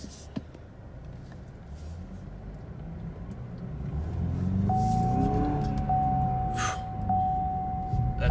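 A 2019 Cadillac CTS with a 2.0 engine pulls away. A low engine rumble builds and swells as the car drives off, steady and fairly close, with no talking.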